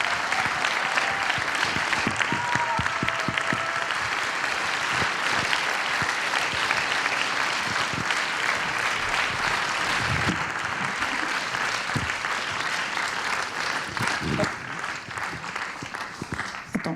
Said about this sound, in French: Encore, applaudissez encore